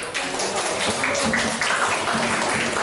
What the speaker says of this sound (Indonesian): Tepuk tangan dulu buat Kay